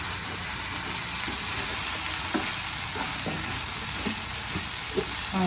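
Steady sizzling of food frying in a pan, with soft scraping stirs and occasional clinks of a utensil at irregular intervals, no voices.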